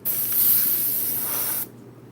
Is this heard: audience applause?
no